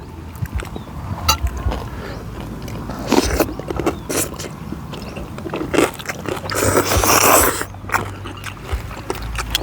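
Crispy pork is bitten and chewed alongside spicy papaya salad, with loud close crunches and crackles in irregular bursts and the heaviest chewing near the end.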